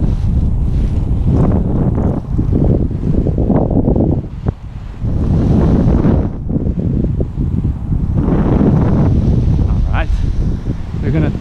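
Gusty Santa Ana winds above 20 mph buffet the microphone at a local park during kite flying, a loud rough rumble that swells and dips throughout, with someone talking over it.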